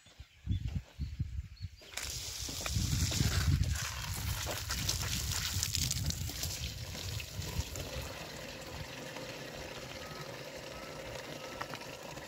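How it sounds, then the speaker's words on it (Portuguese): Water pouring from a hose or tap into a crop sprayer tank on an okra farm, a steady rushing fill that starts abruptly after a few bumps and continues loud and even throughout. "Aí agora eu vou completar com água."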